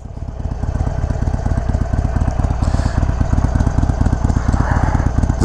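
A 2021 Harley-Davidson Iron 883 engine runs steadily nearby, with a loud, lumpy, rhythmic idle pulse that persists throughout, with no one speaking.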